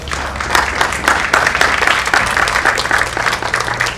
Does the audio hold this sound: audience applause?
yes